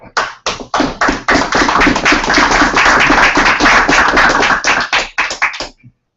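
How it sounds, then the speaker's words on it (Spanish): Audience applause at a humanist political gathering: a dense burst of many hands clapping that builds quickly, holds steady and loud, then breaks into scattered claps before stopping. "Dice la gente que nunca debe aplaudirse antes de escucharlo."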